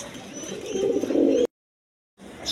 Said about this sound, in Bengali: এখানে এক পেয়ার চুইটাল হাই ফ্লাইং গিরিবাজ কবুতর আছে